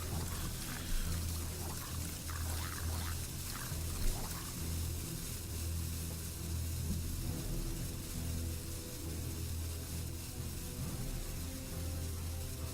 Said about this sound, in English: Got some nice water here, keep me nice and hydrated.